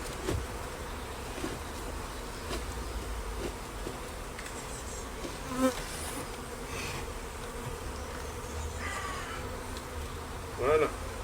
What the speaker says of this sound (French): Voilà, donc là je vais tourner la ruche.